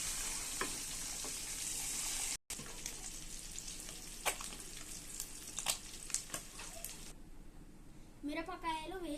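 Eggs with a pinch of turmeric sizzle in a hot pan while being stirred, a continuous frying hiss with scraping, and a voice briefly heard near the end.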